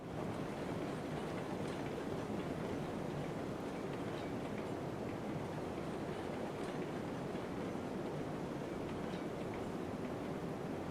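A train rolls along in the railroad game Railroads Online, a constant dense rumble of wheels and rail noise with faint clicks, steady throughout and without voices.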